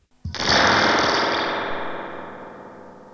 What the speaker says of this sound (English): it's not a huge reverb, but it is a spring reverb, and I shall prove that to you right now